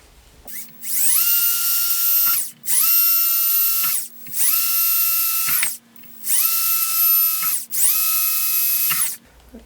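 A drill whines in five separate high-pitched bursts while drilling holes in plastic, each lasting a second or two, with short pauses between them. It is close and loud.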